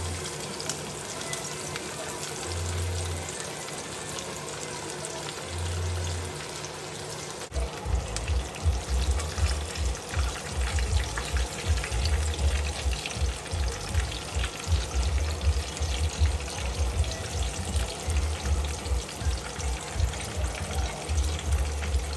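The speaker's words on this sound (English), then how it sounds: "I got my oil nicely ready, so let's go ahead and fry the fish" Fish fries in hot oil in a pan for a crispy result, starting as a steady hiss and turning into a louder, crackling, bubbling sizzle partway through that continues without talk.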